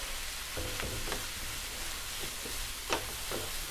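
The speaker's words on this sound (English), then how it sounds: "Alright, so now we're going to saute these." Roasted red peppers and onions sauteing in a pan, a steady soft sizzle with occasional clinks and stirring scrapes, close and continuous without voices.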